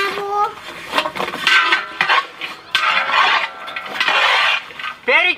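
Cut orange, apple, pineapple, pear and muskmelon pieces are tossed together in a bowl in an outdoor village kitchen, giving busy clinking and scraping of utensils against the dish, fairly loud and close, with voices briefly audible.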